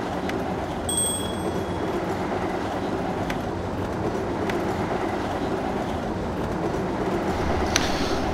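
Steady, loud rumble of a train running in the Cities in Motion game, a continuous roar of wheels on rails with faint clicks and a brief squeal near the end, and no voices.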